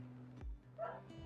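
A pet dog gives a short bark or yip in a room, fairly close and moderately loud, set against steady background hum, with a brief whine-like tone following.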